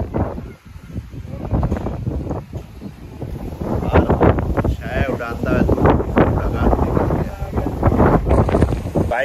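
Strong wind buffets the microphone in heavy, uneven gusts that grow louder midway during a sudden storm, with a person talking underneath.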